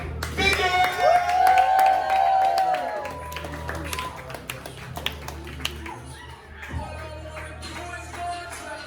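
Audience applause for a poet called up in the final round of a poetry slam: steady, dense clapping under a talking host and some tonal background sound, swelling early then easing off.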